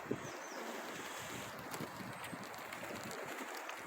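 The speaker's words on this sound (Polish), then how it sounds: "I wieje strasznie u mnie dzisiaj." Strong wind blowing outdoors where pigeons bathe, a steady broadband rush with gusty buffeting on the microphone throughout, alone with no speech.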